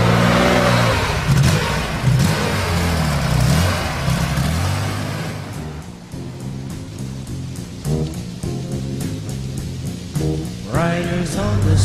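A Porsche 911 flat-six, either a 1973 Carrera RS or a 2009 GT3 RS, revs hard in sustained rising and falling surges. Later it gives shorter, choppier blips as the revs drop and climb again. Loud and close, with no speech.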